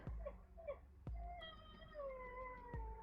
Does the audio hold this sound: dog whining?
yes